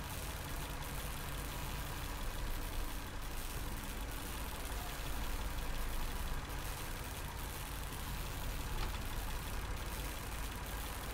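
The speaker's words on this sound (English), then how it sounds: "Judging by the engine noise and the smell, there are diesel generators in this shed." A steady diesel generator drone from a shed in a video game runs throughout, a constant low mechanical idling hum at moderate distance with no speech.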